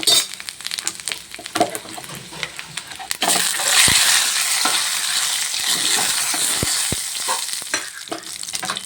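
Dried red chilies hiss and crackle in hot oil for tempering, a loud close sizzle that jumps up sharply partway through and then holds steady, with a few scattered clicks and no talking.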